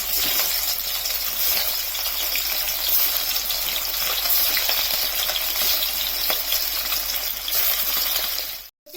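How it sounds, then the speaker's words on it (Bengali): Pieces of fish fry in hot oil in a pan, a loud continuous close sizzle that holds steady before cutting off abruptly at the end. "গরম করে মাছগুলো ভেজে নেব সুন্দর করে লাল করে।"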